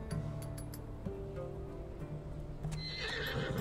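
A horse neighs and whinnies in Assassin's Creed Odyssey, with hoof clip-clop and some light clinking, heard loud and close with no talk.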